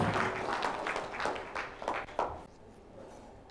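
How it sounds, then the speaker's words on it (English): Seminar audience giving a round of applause as a speaker comes on stage, a brief burst of clapping that thins into a few scattered claps and stops after about two and a half seconds. "Please welcome him with a round of applause"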